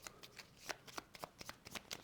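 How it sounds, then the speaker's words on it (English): Cards in the sheep-themed card game Shephy are riffled and shuffled by hand, about ten quick crisp flutters and snaps in an uneven rhythm, close and fairly quiet. "Shuffling up. They're nice and good and shuffled."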